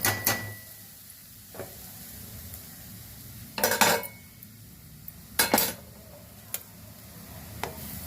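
Rice is tipped onto fried carrots in a pan. Several separate bursts of scraping and rattling are heard, with faint clinks and ticks between them over a quiet background and no talk.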